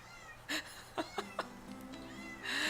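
A cat meows several times up close, short clear calls spaced out and ending in a longer, louder drawn-out meow, with a faint voice in the background.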